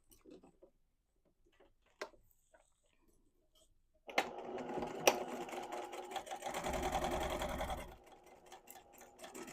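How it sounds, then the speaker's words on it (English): Sewing machine stitching a curved fabric edge at a quarter-inch seam allowance for a peasant dress, a steady close whirring run of about four seconds after soft handling clicks, then stopping. "then you're going to sew this curved edge right here at a 1/4 inch seam allowance"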